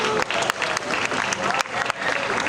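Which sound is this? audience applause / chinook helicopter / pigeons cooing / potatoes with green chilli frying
audience applause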